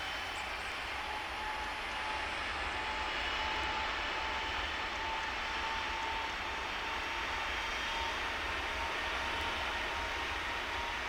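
Boeing 767 jet engines in the Tower! Simulator 3 airport game at Cincinnati, a faint, steady distant whine and roar holding evenly throughout with no talk.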